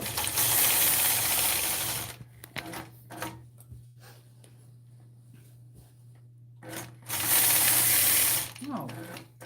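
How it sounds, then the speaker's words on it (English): A sewing machine machine-quilts a portion of a ruler-quilted patchwork, running in two loud rapid bursts at the start and end, with quiet handling and a brief voice in the pause between. "I'm going to continue on and finish quilting this portion"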